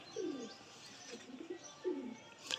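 Pigeons coo softly and close by, three or four low rolling coos spaced across a short quiet stretch.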